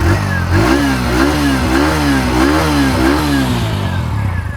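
A commuter motorcycle engine starts and revs up close and loud, its pitch rising and falling in several repeated throttle blips over a steady running note, with no talking.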